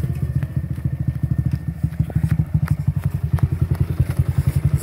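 Nearby, a motorcycle ridden by a novice rider putters with a loud, rhythmic engine throb that grows punchier and more uneven toward the end.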